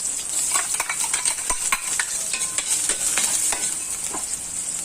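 Garlic and onion frying in oil in a pan while being stirred, giving a steady close sizzle with repeated scraping and stirring strokes throughout, no talking.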